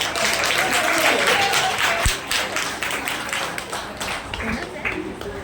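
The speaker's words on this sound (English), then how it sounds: "Big round of applause for Nikat teacher." An audience applauds at a school staff appreciation award ceremony, with moderately loud clapping throughout and voices talking over it.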